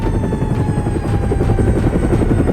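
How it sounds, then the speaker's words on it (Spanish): A toy helicopter in ambulance play gives off a loud, close, steady whirring rotor drone with a fast pulsing chop and no talking. "¡Ya viene el helicóptero!"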